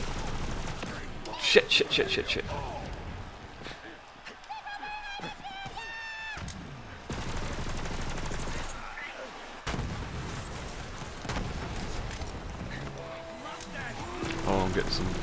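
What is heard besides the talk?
gunfire from the video game Borderlands 3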